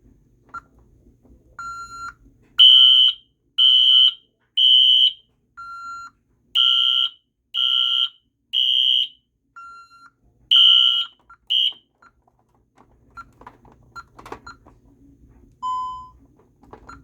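A mini fire alarm system on a test panel sounds after its fire button is pushed: loud, evenly spaced electronic beeps in short bursts, a pause, then more bursts before it falls silent apart from faint clicks and one last softer beep.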